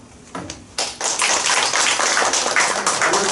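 A few hands clapping in encouragement at a small indoor gathering of four election candidates, starting with scattered single claps and settling into a steady, fairly close round of applause.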